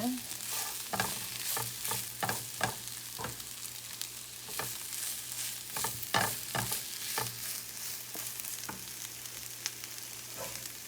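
Steak and chunks of melting cheese get stirred in a frying pan for a Philly cheesesteak, a soft steady sizzle broken by repeated scraping and clinking spatula strokes at an uneven rhythm, fairly quiet and close.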